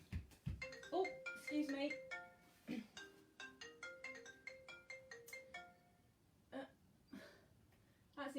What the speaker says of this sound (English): It's alive! I hadn't turned my phone off.